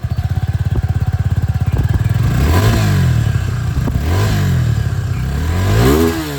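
A motorcycle engine cranks with rapid chugging pulses, catches, then revs up and down several times, loud and close.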